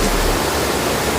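A small waterfall near Bhadrachalam pours water down in a constant, loud, close rushing hiss that holds steady from start to end, with no voices over it.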